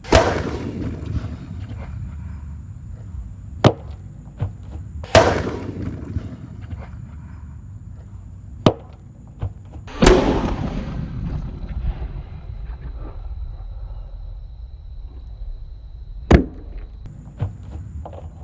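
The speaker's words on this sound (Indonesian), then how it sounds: "Mercon yang kelima Nova Boom. Let's go." A Nova Boom firecracker set off inside a big barrel, several sharp booming blasts spaced seconds apart, each with a ringing metallic decay, loud and close in an outdoor setting.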